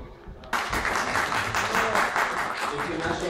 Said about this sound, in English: International language clapping.